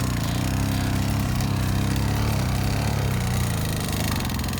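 An old Romet moped engine runs just after being started, a loud, steady, buzzy two-stroke drone with a slight rise and fall in revs, close to the microphone and without talk.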